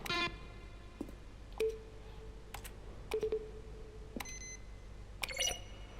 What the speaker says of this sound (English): A selection of sounds used throughout the game when buttons are pressed. Each sound is a mix of a keyboard stroke and a synthesized tone.